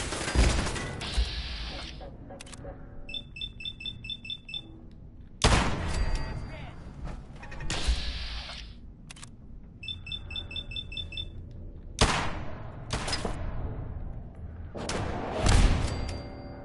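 Turrets opening fire in Fallout 4, loud repeated bursts of gunfire hitting in heavy waves several seconds apart, with electronic beeping and a player talking between volleys.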